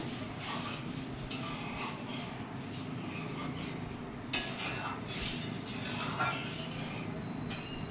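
Semolina halwa, fried red and then mixed with poured milk, is stirred in a pan with continuous scraping and clattering, a few sharper scrapes standing out, close and moderately quiet.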